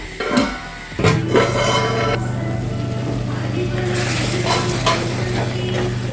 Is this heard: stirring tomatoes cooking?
yes